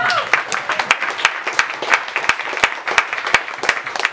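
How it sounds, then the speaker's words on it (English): Brisk, steady applause from an audience at a literary salon reading, with close, crisp individual claps throughout. "One more round of applause."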